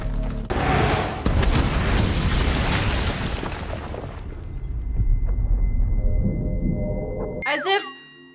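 Bombing explosions from an air raid in the Mockingjay film: heavy booms and rumbling blasts roll on loudly for several seconds and then fade, followed by a short sharp burst at the end.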